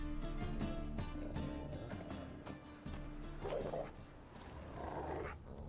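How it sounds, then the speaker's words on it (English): Dogs bark in The Witcher 3, with several sharp barks and yips over a dense, noisy game backdrop of hooves and ambience, moderately close. "Just beware of the dogs."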